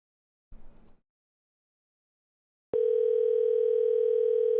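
A telephone line tone plays after a brief burst of noise and a pause: a steady, loud, unbroken electronic tone holds on one pitch while the caller waits for an answer.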